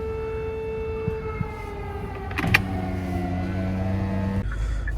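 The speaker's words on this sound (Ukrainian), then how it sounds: "повітряна тривога." A wailing air raid siren in Kyiv, 2022, holds steady tones with a rising pitch shift midway, heard from inside a taxi in traffic with engine hum beneath.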